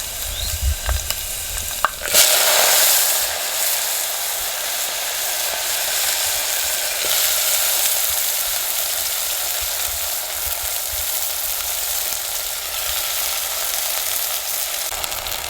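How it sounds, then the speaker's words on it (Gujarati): Chopped brinjal and greens hit a hot oil tempering of reddened garlic and asafoetida in a village kitchen, bursting into a loud close sizzle after a few soft clatters, then frying steadily and evenly to the end with no voices. "અને હવે આપણે આ રીંગણાને ભાજી મળી છે ને એનો વઘાર કરી નાખીએ"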